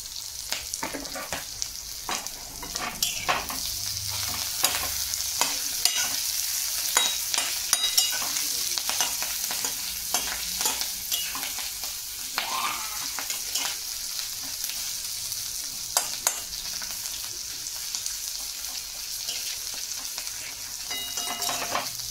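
Capsicum sizzling with sautéed onion in a pan for fried rice, a continuous close frying hiss broken by repeated stirring scrapes and clinks throughout, no talk.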